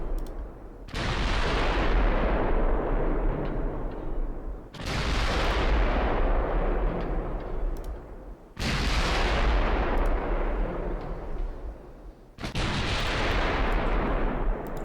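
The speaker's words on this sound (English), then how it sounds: "Very long range shots, but a shot at this range could cause absolutely catastrophic damage." Battleship main guns firing in the naval strategy game Ultimate Admiral Dreadnoughts, four heavy booming salvos at regular intervals, each with a sharp onset and a long rumbling decay that fills the gap before the next shot.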